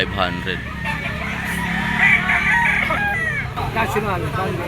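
A yellow-legged bull stag gamecock crows nearby, one drawn-out call rising and falling, with other fowl clucking and people talking in the background.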